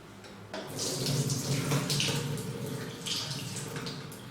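Water pouring and splashing steadily as it is drained from soaked lentils, close and moderately loud, running continuously without speech.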